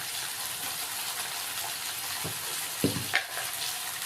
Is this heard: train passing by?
no